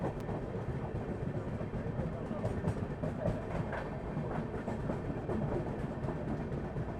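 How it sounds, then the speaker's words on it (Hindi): A new Amrit Bharat Express rake of Northern Railway passes near the Patna–Hajipur highway with a steady, continuous rumble and a rhythmic clickety-clack of wheels on rail joints. "ये अमृत भारत एक्सप्रेस,"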